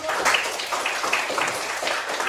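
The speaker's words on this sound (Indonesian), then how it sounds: "Tepuk tangan dulu." Small audience in an Indonesian class or lesson clapping after a poem reading, a fairly steady, moderately loud patter of hands lasting a couple of seconds with no voices over it.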